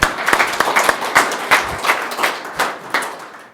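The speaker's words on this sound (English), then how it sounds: "Round of applause." A small group at a county board meeting claps in congratulation, sparse individual hand claps clearly separated in a loose, uneven rhythm, close and fairly loud, tapering after a few seconds.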